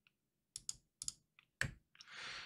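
A computer mouse gives a handful of quiet, irregular clicks while cutting shapes with the scissors tool in Xtool Creative Space. A soft hiss follows at the end.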